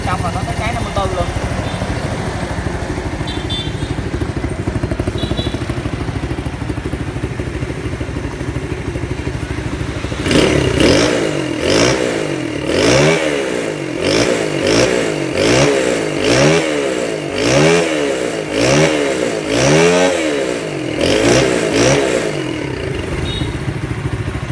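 A modified Honda 67 motorbike with a 54cc small-bore engine built on a 13T3 setup idles at first, then revs repeatedly in sharp, rhythmic bursts. Someone talks nearby.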